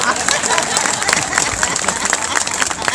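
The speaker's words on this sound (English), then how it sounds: "can we give her another round of applause?" Crowd at an Oregon coast aquarium animal show claps in a busy, uneven burst, with scattered individual claps standing out and voices mixed in among the applause.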